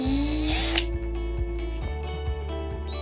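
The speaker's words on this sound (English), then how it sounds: "we need to drill this a little bigger" A power drill enlarges a hole in a toy trailer for a riding mower in a home workshop, a steady whirring motor hum with repeated faint ticking pulses, close and moderately loud.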